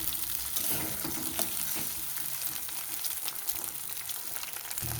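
Three eggs frying in a pan, a bright crackling sizzle up close with stirring sounds, steady throughout and free of speech.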